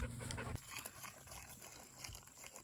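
A pregnant farm dog pants steadily in short, fast breaths, with a few soft whimpers mixed in, fairly close and alone with no talking.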